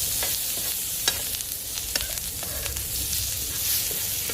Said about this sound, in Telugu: రొయ్యల వేపుడు, దాంట్లో కొద్దిగా కరివేపాకు వేసి చేస్తున్నాం.